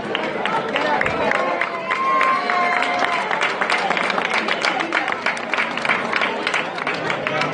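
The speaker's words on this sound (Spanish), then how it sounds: "un fuerte aplauso para ella" A protest gathering's audience applauds and cheers as a presenter is welcomed on stage, a steady clapping crowd with a murmur of voices underneath, lasting several seconds at even loudness.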